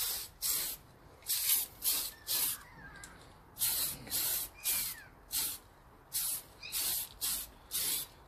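Aerosol spray can lays light coats of green paint onto a Traxxas X-maxx RC car body in short, repeated hissing bursts of about half a second each, separated by brief pauses, close and fairly quiet.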